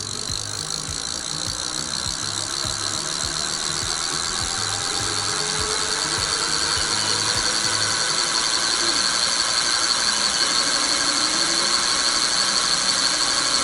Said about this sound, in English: I'm going to lift the back end, and Heidi's going to push the throttle full speed